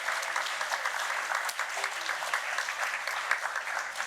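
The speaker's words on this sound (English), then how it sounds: "A round of applause as they come up to the stage and get ready." Library audience at a toy piano festival applauding as performers come to the stage, a steady wash of many hands clapping at moderate volume, fairly even throughout, with no voices clearly audible.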